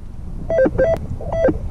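A Rutus Alter 71 metal detector with a 23 cm coil gives short beeping tone signals over a small lead seal buried in the ground, several quick repeated pitched beeps close and clear over faint background rustle.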